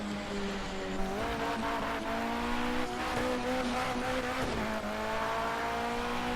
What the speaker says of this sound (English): let's all go fast in a Porsche 919 hybrid